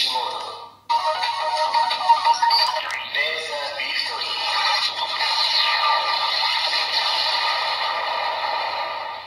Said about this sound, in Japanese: 必殺技音ですね。